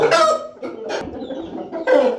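A rooster offered for sale clucks in loud, close bursts: a long call at the start, a shorter one near the middle and another at the end, with softer clucking between.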